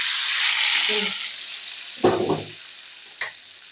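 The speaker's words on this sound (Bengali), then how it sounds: "এই শাকটার মধ্যে বাগার দিয়ে দিলাম" Hot oil tempering poured over cooking greens, a loud hissing sizzle that fades, followed by a low clattering burst and a brief sharp clink.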